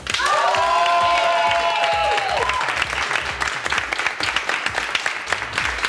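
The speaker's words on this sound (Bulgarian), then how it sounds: "а сега още веднъж аплодисменти за моите гости Любо и Боби" Studio audience applauding guests Lyubo and Bobby on a television talk show, steady dense clapping with some cheering and a tonal music sting at the start, fading slightly toward the end.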